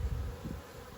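Honeybees buzz at a garden hive beside an apple tree, a steady, close, low drone with no voices over it.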